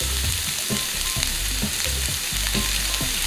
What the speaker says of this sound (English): We're gonna saute our leeks first a little bit